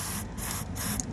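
Electrical cleaner sprays onto the AC heater blower motor of a Toyota Land Cruiser in a close, continuous hiss with short pulses, lasting about a second.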